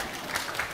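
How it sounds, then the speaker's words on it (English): Lecture audience applauding at an Entrepreneurship 101 talk, a steady wash of many hands clapping at moderate distance with no one speaking over it. "Let's give her a round of applause."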